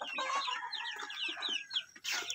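Pet chickens of an all-black flock cluck and chatter continuously outdoors, a dense, close run of short repeated calls with no talking.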